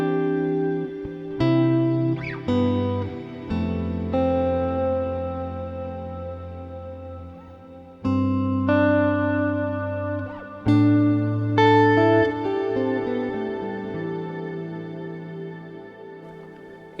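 Electric guitar chords played through a Line 6 Helix modeler with a plate reverb, damping set high, each strum leaving long shimmering trails that decay slowly between fresh attacks, with no voices.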